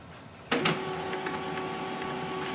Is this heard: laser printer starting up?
yes